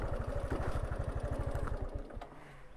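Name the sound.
motorcycle engine idling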